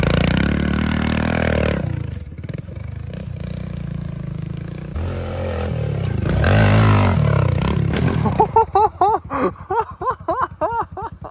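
A KLX110 dirt bike riding over abandoned dirt jumps, its small engine droning steadily, then surging and revving as it lands, ending in choppy, rhythmic throttle blips up close.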